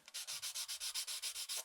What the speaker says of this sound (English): a little sanding sponge.